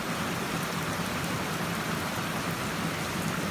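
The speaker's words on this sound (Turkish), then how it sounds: "Yağmur bardaktan boşanırcasına yağıyor sanki." Heavy evening rain pours down steadily in Kuşadası, Turkey, a dense, constant hiss of drops drumming on surfaces with no pauses or voices.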